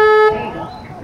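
A single loud, close tour-boat horn blast on the San Antonio River Walk, a harmonic toot that cuts off after a moment and leaves a fading echo.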